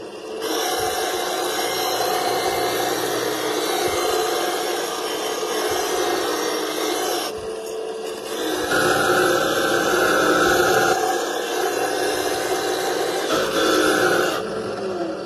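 A glass grinder shapes a stained glass piece for a lead came panel, a continuous close gritty whirring and rasping that runs steadily, with brief pauses and shifts in pressure as the glass is worked.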